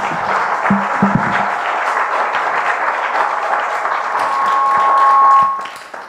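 An audience claps after a speech at a Bega Kwa Bega Uganda 25th anniversary celebration, a dense, even roomful of applause that holds for several seconds and then fades.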